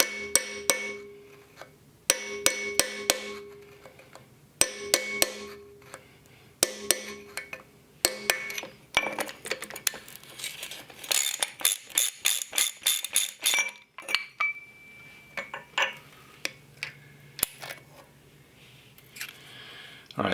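Metal strikes and taps ring out in uneven bursts as a bent-over tab lock washer on a Dana 30 spindle from a Jeep CJ7 is flattened, with sharp clinks, close and moderately loud, separated by pauses.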